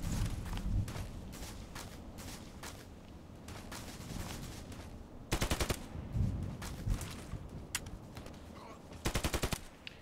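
Rapid automatic gunfire in the Contract Wars shooter, with several short sharp bursts standing out over quieter scattered shots, footsteps and background game noise.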